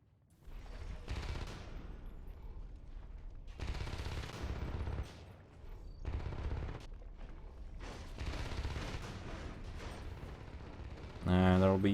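Bursts of gunfire in a competitive video game match, with repeated rapid volleys across several seconds and a louder, sharper burst near the end, heard under steady commentary.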